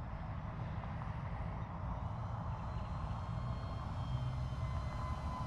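Electric motor of a sub-250g RC mini wing airplane cruising just below half throttle, a steady, smooth buzzing drone heard at a moderate distance with faint wind and no voices.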